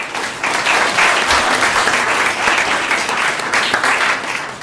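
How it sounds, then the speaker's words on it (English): Sustained applause from a seated audience at a book launch, steady and fairly loud throughout with no break, following a dramatic enactment of a chapter. "Just a round of applause for them again."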